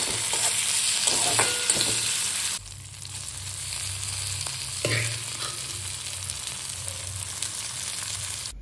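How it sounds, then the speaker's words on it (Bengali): Capsicum frying in oil with cumin and dry chilli, a close steady sizzle with stirring scrapes. It grows quieter partway through and keeps bubbling without any voice. "ক্যাপসিকাম একটু ভাজা ভাজা হয়ে গেছে"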